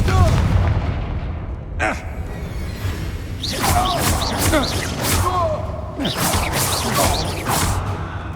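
Confringo blasting spells explode in Hogwarts Legacy combat, a series of bursts and whooshing impacts over a busy fight soundscape, with voices calling out spells in between.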